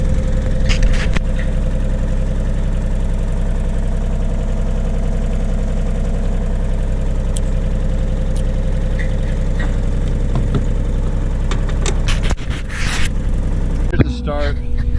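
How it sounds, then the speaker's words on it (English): A loaded excavator's diesel engine idles with a steady low mechanical drone throughout, a few scrapes and clatters on top, and someone talking over it near the end. "just loaded the excavator"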